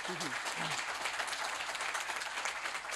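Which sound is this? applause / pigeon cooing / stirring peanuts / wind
applause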